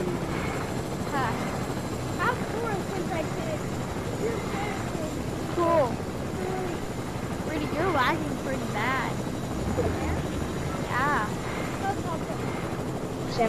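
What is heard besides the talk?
helicopter flying in Fortnite video game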